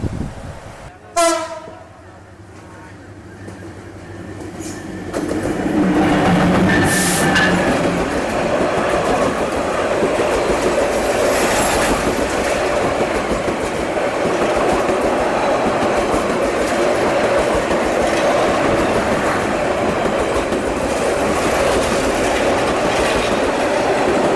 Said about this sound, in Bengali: লালমনিরহাট এক্সপ্রেস কিন্তু আমাদের ছেড়ে গেল, আর এর সাথে আমাদের ট্রেনও কিন্তু ছেড়ে দিল পরবর্তী স্টেশন গাইবান্ধার উদ্দেশ্যে